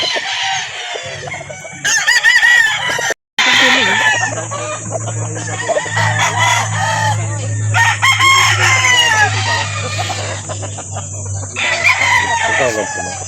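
Roosters crow and chickens cluck over and over at a poultry market in Calauan, Laguna, loud and close with many overlapping birds and a steady low hum beneath, with people talking faintly in between.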